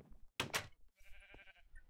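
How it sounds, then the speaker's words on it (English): Sheep bleat in the Minecraft video game, two loud, close bleats in quick succession followed by a softer electronic game tone. "We're gonna shear some sheep."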